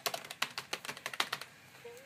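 Quick, crisp keystrokes clatter on the keyboard of an IBM PS/Note 425 laptop, about a dozen close taps in an uneven burst, a brief pause, then one more.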